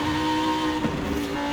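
A Lamborghini V10 from Forza Horizon 5 sings in a steady high-pitched tone that holds and shifts slightly, loud and continuous, with no talking over it.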